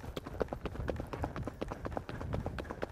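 Rhythmic hoofbeats of a trotting horse, steady and even, with a soft mix of background noise throughout.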